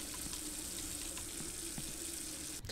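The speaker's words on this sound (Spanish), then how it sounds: "Se está llenando de agua." Water rushing steadily into a room in the Yuppie Psycho video game, a constant even gush with no talk.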